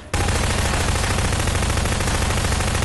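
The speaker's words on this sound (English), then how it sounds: "Oh god, I heard people shooting! No, it's just me." Sustained automatic gunfire in the Prop Hunt video game: a loud, dense, unbroken burst of rapid shots running almost three seconds after a brief quiet start, with no voices.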